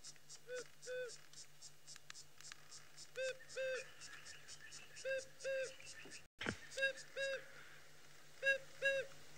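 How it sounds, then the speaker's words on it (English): A recording of an African cuckoo's simple two-note call is played during a safari livestream, the soft paired notes repeating at intervals over faint insect buzz and a low steady hum. "It's a very, very typical sort of cuckoo call."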